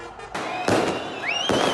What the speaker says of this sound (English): And fireworks, not missiles, lighting up the night sky.